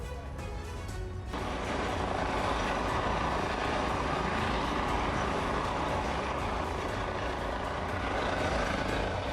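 A rescue helicopter flies over a flooded Bavarian town, its engine and rotors making a loud, continuous roar that stays near and steady throughout.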